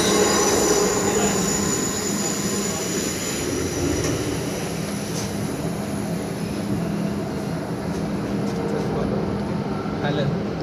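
A Pune Metro train rolls steadily along the track with a continuous loud rumble and high wheel squeal heard from inside the carriage, while voices murmur faintly underneath.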